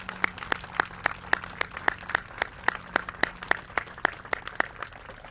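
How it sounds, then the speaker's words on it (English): Sparse, evenly spaced claps ring out one after another, a thin round of applause from a small group in a quiet room. "I want to give Doug just a round of applause for."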